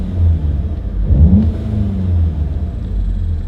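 A Volkswagen Mk7 GTI with an ECS Tuning air intake revs while in park, its engine rumbling loud and close, rising in a throaty sweep and then settling back to a steady idle.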